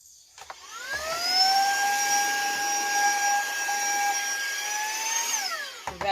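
A Saker cordless handheld vacuum cleaner starts up with a rising whine, runs at a loud, steady, high-pitched motor drone for several seconds, then winds down. A few handling clicks are heard at the start and end.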